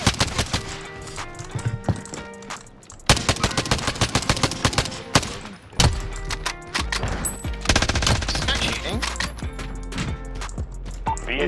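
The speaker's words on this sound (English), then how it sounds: "He's just shooting people I don't even know where they are." Rapid, loud gunfire in Call of Duty Warzone (Cold War), with repeated automatic bursts and cracking shots, some close and some farther off, running almost nonstop.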